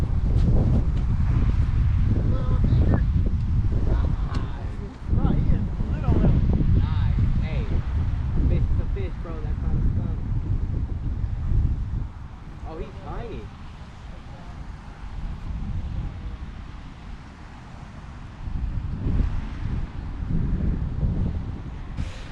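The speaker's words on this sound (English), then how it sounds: "the wind definitely picked up here" Strong wind gusting across a lake bank during bass fishing, a loud rumbling buffet on the microphone throughout that eases slightly midway, with people talking over it.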